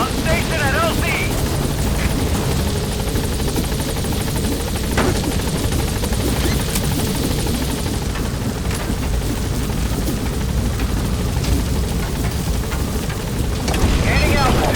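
A support helicopter in the Metal Gear Solid V video game closes in on a landing zone, its loud, steady rotor roar filling the scene while a radio voice speaks over it.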